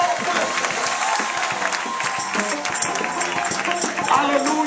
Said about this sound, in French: je vous remercie. Acclamez fort.